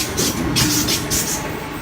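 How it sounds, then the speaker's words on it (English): Waratah passenger train departing Mount Colah station in Sydney, a steady loud rumble of wheels and motors with faint rhythmic clicking, heard close from the platform. "To start off with, we have a Waratah departing, a per-hour service."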